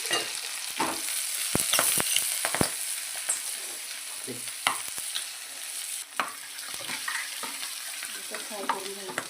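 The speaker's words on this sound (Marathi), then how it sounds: "फ्राय करून घ्यायचं." Chili, onion, peas and spices frying in a pan for a potato dish, a steady sizzle broken by repeated scraping and stirring clicks, close and clear with no talking.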